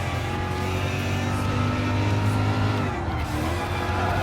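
A Gr.3 race car in Gran Turismo Sport on the Dragon Trail Gardens circuit holds a steady, buzzing high-rev engine drone, then the pitch dips briefly near the end as the throttle eases.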